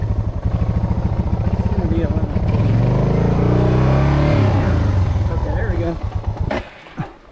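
A stuck off-road vehicle's engine revs hard at close range, rising from a throbbing idle into a sustained roaring strain that later drops away, while people talk over it.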